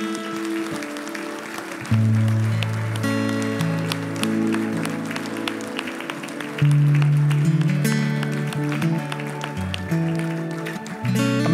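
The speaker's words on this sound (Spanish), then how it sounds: "Demos un aplauso grande" A Spanish-speaking church congregation gives a big round of applause at the close of a prayer, the clapping running throughout on top of loud, sustained worship-band music with deep bass notes.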